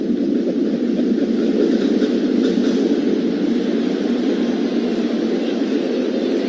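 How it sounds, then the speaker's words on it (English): A steady, continuous low rumble of a New York 7 line subway train pulling in, heard from inside a baseball stadium, constant and moderately loud with no voices. "Sounds like the 7 pulling in."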